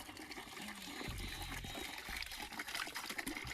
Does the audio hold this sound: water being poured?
yes